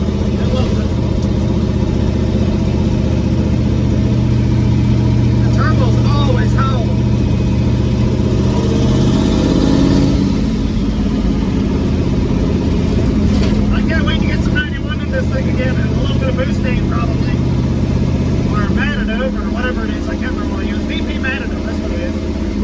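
A rat rod with a V8 engine, an aluminum 5.3, drives along with exhaust through homemade headers, giving a loud, continuous rumbling drone that rises and falls with revs, with someone talking over it.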